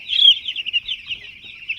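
A young chick with a swollen rear and poor digestion peeps continuously in a high, thin, steady stream of calls, close and fairly loud, with no talking.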